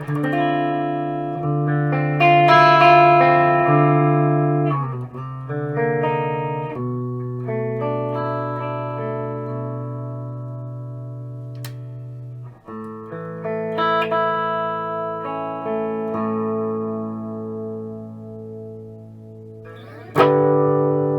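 An electric guitar, a Gibson Les Paul Studio fitted with replacement pickups, plays sustained chords and single notes through heavy echo and reverb, with notes ringing over one another in long, washing tails, and no one talking.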